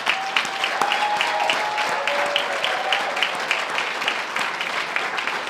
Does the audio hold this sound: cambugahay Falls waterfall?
no